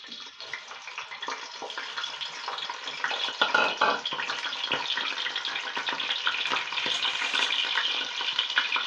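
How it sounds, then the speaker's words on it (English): Onions fry in hot oil, a continuous sizzle with crackling bursts and stirring scrapes that builds slightly and stays close, with no talking. "We will allow this to heat up, and then we are going to fry our onions"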